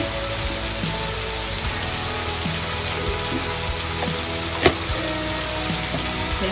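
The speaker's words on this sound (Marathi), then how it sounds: "हे सर्व आपल्याला परत परतून घ्यायचं" Vegetables sautéing with Malvani masala and red masala in a pan, a steady dense sizzle with scattered small crackles and one sharp knock, with no voices.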